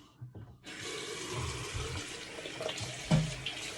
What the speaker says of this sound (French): on mouille la brosse